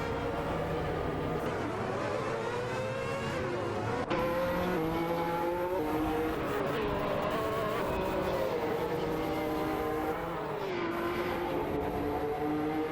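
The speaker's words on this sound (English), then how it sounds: "Racing car dashing away." Race car in an AI racing event, engines revving and gliding through rising and falling pitch sweeps, loud and continuous throughout with dense layered motor tones and no talk.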